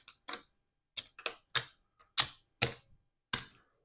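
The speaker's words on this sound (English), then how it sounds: "So I'm just going to give these one quick shuffle, clear off the card" Loteria game cards are shuffled in a quick series of about eight crisp, separate riffling snaps, close and alone with quiet gaps between them.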